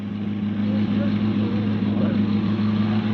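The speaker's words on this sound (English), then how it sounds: "The sound you hear in the background, ladies and gentlemen, is that of a Ferrari Monza." A Ferrari Monza racing engine runs steadily with a deep, continuous drone in an engineering shop, sustained and even throughout with no pauses.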